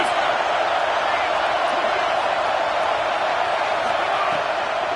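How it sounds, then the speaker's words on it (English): Football stadium crowd roaring for the defense on third down at a college game, Notre Dame versus Cal: a dense, sustained wall of loud cheering and noise that holds steady throughout with no break. "Decibels rising as the crowd gets behind this defense on third down."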